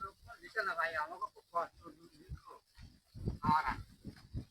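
Cattle moo a few times in a Sundarbans border village, with low drawn-out calls close by, while people talk around them.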